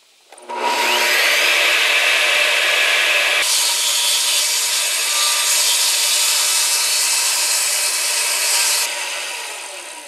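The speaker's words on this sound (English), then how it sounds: "I can run it against the guide on the table saw and get a nice straight cut here" Table saw ripping a wooden tongue-and-groove roof board along the guide, a loud continuous high whine of blade through wood lasting about nine seconds, close by with no voices.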